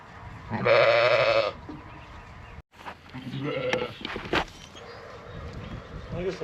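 Sheep bleat on a small farm, ewes and lambs calling in loud, drawn-out cries close by, first one long bleat then several overlapping calls, with shuffling and movement around them.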